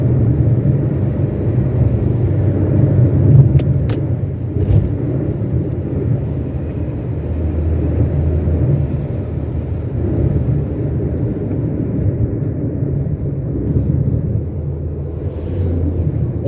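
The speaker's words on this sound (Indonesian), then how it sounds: "inilah nikmatnya mengemudi ya" A car driven fast on a road trip through South Sumatra, heard from inside as a constant loud low engine and road rumble with a few faint clicks, no talk.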